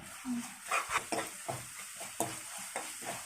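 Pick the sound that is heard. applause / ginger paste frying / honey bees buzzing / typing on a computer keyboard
ginger paste frying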